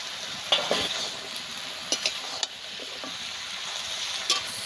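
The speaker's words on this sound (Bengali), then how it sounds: "বাটা দিয়ে ভালো করে কষিয়ে নেব" Tuna fish head sautéed with spice paste in a pan, a steady sizzle broken by several sharp scraping stirs of the spoon against the pan.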